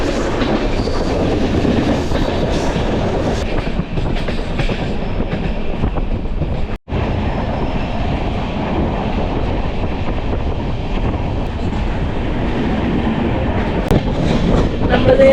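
The KSR Bengaluru Intercity Express 16378 runs on rails between Ernakulam and Coimbatore as it nears Thrissur, heard from on board as a loud, continuous rumble with steady wheel clatter and a momentary dropout midway.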